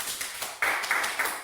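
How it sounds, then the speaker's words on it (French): Brief burst of office applause in a meeting, several people clapping close by in a short, uneven patter lasting about a second and a half. "Tout le monde, applaudissez."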